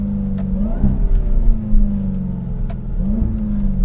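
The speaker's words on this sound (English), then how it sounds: "we're gonna accelerate out of this intersection" A 2021 Dodge Durango Hellcat's supercharged engine with a ZF automatic revs up hard and steadily through paddle-shifted gears, a loud, continuous low roar that dips briefly at each shift, heard from inside the cabin with no talking.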